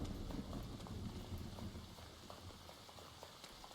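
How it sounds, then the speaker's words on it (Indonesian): Night rain falls in the video game Once Human, a steady dense hiss of drops that fills the whole clip, with faint scattered taps and thuds mixed in and no talking. "Udah malam hujan."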